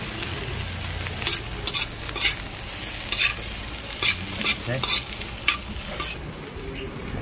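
Bell pepper and chili sautéing in a hot pan, a steady frying sizzle with repeated scraping stirs of the spatula, close and fairly loud, with a brief word spoken over it.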